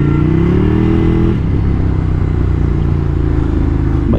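A new superbike accelerating in Goa, its engine note rising in pitch and then dropping at a gear change before pulling again, close and loud with a steady mechanical clatter and no talking.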